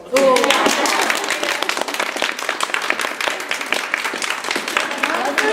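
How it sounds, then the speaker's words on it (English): A burst of clapping from a small group starts suddenly and continues steadily, fairly loud and close, with no talking over it. "Okay, let's do the applause."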